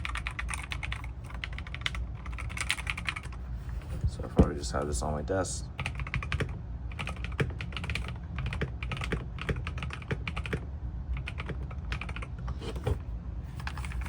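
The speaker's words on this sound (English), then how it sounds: "The keys are really nice and easy to press. Make a very satisfying sound as well." Someone types steadily on an RK Royal Kludge C61 wired gaming keyboard, a dense run of close, crisp key clicks with a few heavier strokes, while a person talks over the typing.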